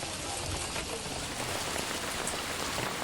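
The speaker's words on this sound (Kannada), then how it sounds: "ದಿಢೀರನೆ ಸುರಿದಂತಹ ಮಳೆ" Sudden heavy rain, with hail reported in the area, pours onto surfaces in front of a house in Ramanagara where vehicles are parked, a dense, steady roar of drops with no voices.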